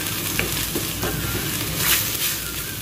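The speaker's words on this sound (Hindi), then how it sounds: "यहाँ पर जिंजर गार्लिक का पेस्ट जो है वो अच्छे से भुना गया है" Ginger garlic paste sizzles and fries steadily in a pan while being stirred, a continuous close crackle with soft scraping strokes throughout, no talking.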